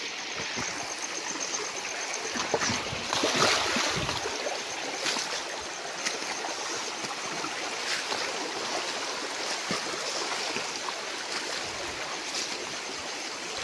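A flowing village stream is waded across, a continuous rushing wash of water with occasional splashes from steps, moderately loud and close.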